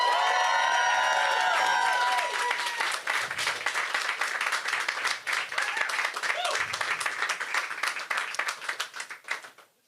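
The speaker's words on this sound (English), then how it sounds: "I think we should give them and the volunteers who worked so hard for them a round of applause" An audience applauds candidates and volunteers at an election event. Clapping and cheering with whoops and shouts open over a brief swell of music and voices, then settle into dense, steady applause that fades out at the end.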